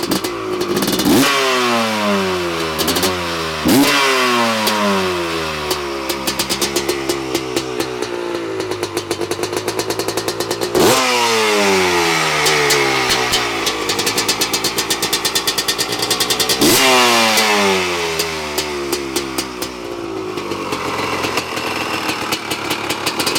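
Motorcycle engine with strong compression, started first kick, idling near and loud with a steady clattering beat and several blips of revving that rise and fall.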